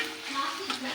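Tempering sizzles in hot oil with cumin and asafoetida for tomato dal, a brief continuous crackle at moderate loudness.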